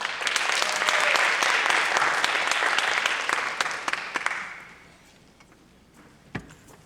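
Audience applause at a high school theater senior showcase, loud and sustained for about four seconds before thinning out and fading to quiet, with a last stray clap near the end.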